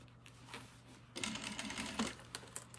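A sewing machine stitches a skirt seam, a faint soft whir at first, then a louder buzzing run of rapid stitches in the second half.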